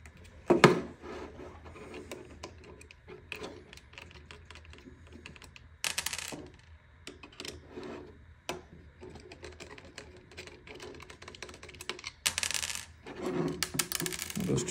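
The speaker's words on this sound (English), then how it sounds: "undo this screw and this screw" Screws being undone on a Q182JS joystick controller module, giving quiet clicks and small metallic taps in scattered bursts, close up and fairly faint.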